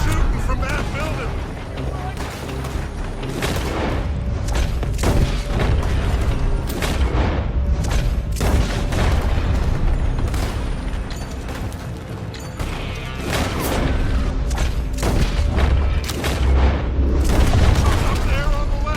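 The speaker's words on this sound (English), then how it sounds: "They're shooting from that building." In Red Dead Redemption 2, gunfire cracks from a building as a loud string of sharp shots and booms over a rumbling game soundscape.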